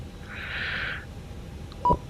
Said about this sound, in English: I'm sorry for the constant beeping from GSX.